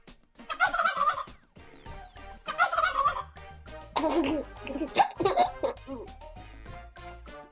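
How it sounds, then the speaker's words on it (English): Turkey gobbling in a children's farm-animal song: three loud rapid bursts of warbling gobbles, the last longer and lower, clear and close with no talk. "Turkey."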